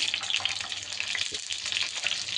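Urad dal, cumin and mustard seeds fry in hot oil for tempering, a soft, close, continuous sizzle with light crackling and a brief low knock partway through, no voices.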